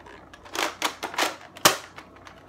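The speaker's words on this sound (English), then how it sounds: "I'm going to take the mag out, and there goes 2 rounds" Nerf Rival Apollo foam-ball blaster with its magazine being pulled out. A quick series of sharp plastic clicks and clacks, roughly six close knocks in a little over two seconds, with one louder snap near the end and no voices.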